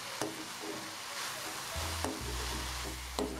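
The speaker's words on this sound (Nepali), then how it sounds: "यसलाई पनि अब राम्रोसँग यही गुन्द्रुकसँगै चलाइदिने" Gundruk being stirred with salt in a cooking pan, a steady close sizzle with soft scraping strokes and a few sharp knocks of the spoon against the pan, no voices.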